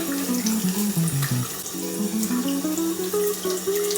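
Water runs steadily from a tap into a sink, a continuous close splashing stream with shifting tonal ringing, used to expand compressed tablet face cloths.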